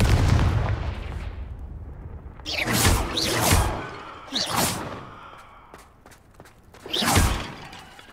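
Confringo spell blasts in Hogwarts Legacy, aimed at vases: three booming bursts with whooshing tails, separated by quieter pauses, and a loud rumbling start.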